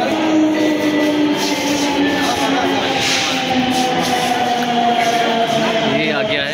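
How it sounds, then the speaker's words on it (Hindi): A Delhi Metro Pink Line train pulls into Hazrat Nizamuddin station: a loud, steady rumble with a sustained whine and tonal hum runs throughout, with faint crowd murmur behind it. "तो फाइनली मेट्रो आ चुकी है"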